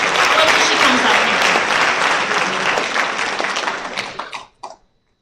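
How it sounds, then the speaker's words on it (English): A school assembly audience breaks into loud, sustained applause honoring a staff member, clapping dense and close, then thinning out and ending in a few last scattered claps. "I want you all to give Ms. Shelton the hugest round of applause"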